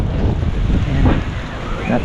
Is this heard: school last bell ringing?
no